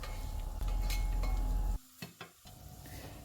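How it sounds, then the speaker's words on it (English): Onions sizzle and crackle in a hot pan while being stirred for a beans and dumplings dish, a steady close fry that cuts out abruptly partway, leaving a few soft scraping clicks. "put the onions in it and stir it until it goes a bit softer or caramelized"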